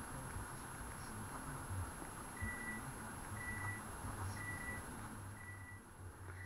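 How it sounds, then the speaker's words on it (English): Reversing beeps from a vehicle outside, four faint evenly spaced tones repeating over a low steady rumble, heard distantly through a room. "Sorry about the beeping."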